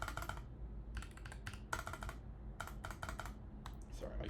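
Close-up computer keyboard typing in irregular bursts of rapid clicking keystrokes, with short pauses between flurries and no talking.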